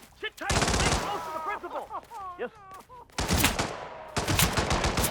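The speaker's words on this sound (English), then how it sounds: "Who's shooting us and why?" Rapid gunfire bursts from guards shooting at the player in the video game Hitman, two loud dense volleys separated by a stretch of voices talking.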